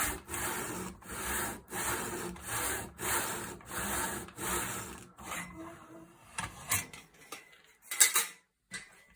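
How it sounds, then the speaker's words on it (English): A hand saw cuts through wood during gunstock fitting work on a Caesar Guerini shotgun, with even back-and-forth rasping strokes for about five seconds, then slower, irregular scrapes and knocks as the cut nears completion. "So back on with the saw, one-handedly."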